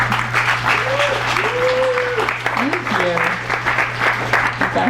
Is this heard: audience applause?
yes